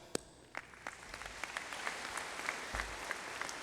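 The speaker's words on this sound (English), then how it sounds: "So let's give them a big round of applause" Applause for graduates' families at a graduation ceremony begins with a few scattered claps, then fills out into sustained clapping from a large hall audience that grows steadily louder.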